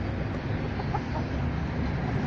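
Roosters and hens at a gamecock farm cluck and mutter in a dense, steady flock chorus over loud background noise, with no clear crow standing out.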